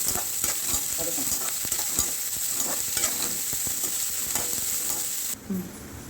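Onions sizzle steadily in a hot pan for shark puttu, a close frying hiss broken by regular scrapes and taps of a spoon stirring, with no talking.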